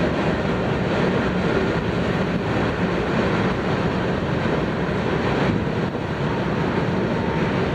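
A long freight train rolls steadily past close by during a Utah railfanning chase, a continuous loud rumble and roar of wagons with no pause or talk.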